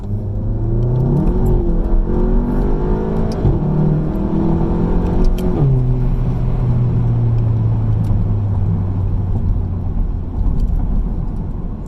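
A car on Firestone Indy 500 tires accelerates hard at full throttle from second gear in sport mode, the engine note rising loudly and steadily, with a brief dip and a fresh climb midway, then holding a strong, sustained drone.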